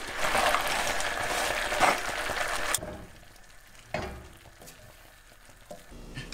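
Bacon goes into a pot of boiling cheese potato soup: a loud sizzling, bubbling wash for a few seconds, then a sudden drop to quieter simmering with a soft clunk and light stirring sounds.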